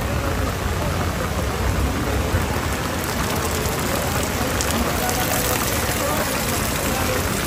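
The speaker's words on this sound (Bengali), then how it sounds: "হাটে কাস্টমার বলতেই নাই, বৃষ্টি বৃষ্টি পড়তেছে।" Steady rain falls at an outdoor cattle market in Hazratpur, a dense even wash of patter filling the whole stretch, close and loud, with muffled talk mixed beneath it.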